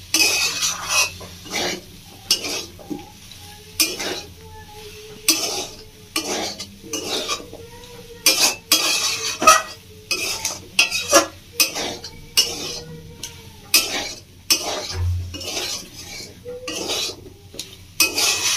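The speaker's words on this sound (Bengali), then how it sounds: "ভালো করে মশলাটা আমি কষিয়ে নেব" Turmeric-spiced masala paste stir-fried in a pan for a Bengali panch mishali sabji with drumsticks, a spatula scraping and clinking against the metal in quick repeated strokes over a faint sizzle, close and steady, with no talking.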